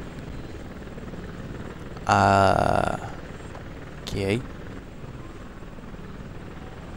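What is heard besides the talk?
helicopter in video game ONI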